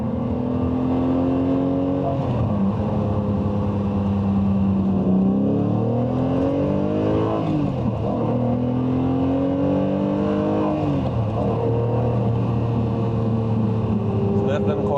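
A two-wheel-drive Lamborghini Murcielago with a gated manual and a Bizzarrini V12 winds up through the gears. Loud engine tones rise and drop with each shift above 4,000 RPM, and a voice talks over the engine.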